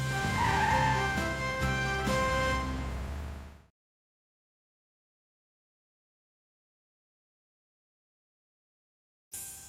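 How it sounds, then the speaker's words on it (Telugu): A cartoon fire truck arriving in a children's show, sounding as a loud tonal vehicle noise for a few seconds that cuts off into silence, with a brief burst returning at the very end. "ఫైర్ ట్రక్ వచ్చిందే, లైట్లు వెలిగించుకుంటూ వచ్చిందే, మన దగ్గరకు వచ్చి ఆగిందే"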